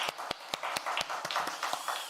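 A church congregation at an Easter Sunday service claps in a quick, steady rhythm, with sharp, evenly spaced hand claps sounding fairly close.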